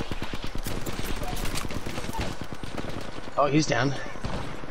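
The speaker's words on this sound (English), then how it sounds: "Oh, they're shooting at each other." Gunfire from enemy squads in Apex Legends crackles in rapid, dense bursts at mid distance, with shots overlapping and then thinning out while a player briefly speaks over the shooting.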